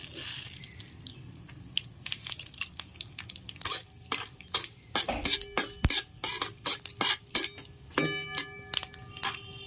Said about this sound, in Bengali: তেল গরম হয়ে গেছে, শুকনো লঙ্কা দিয়ে দিলাম, কালো সর্ষে